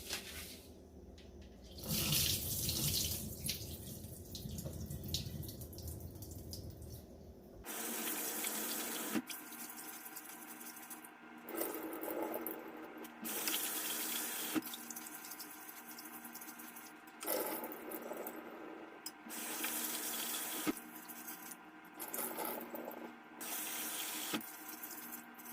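Tap water runs steadily into a pot while rice is rinsed, with a splashing, hissing flow. The sound shifts as the pot fills and the rice is swirled, and occasional clatters break it up. No one speaks.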